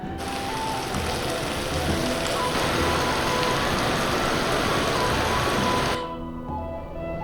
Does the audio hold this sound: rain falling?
yes